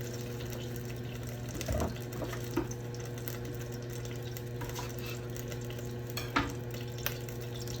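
Seafood frying in a little olive oil, giving a steady, even sizzle throughout with a few soft clinks and stirring knocks on top.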